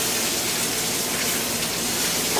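Sliced peppers hitting a hot pan with garlic, a dense continuous hiss and crackle of frying, close and steady throughout with no talking.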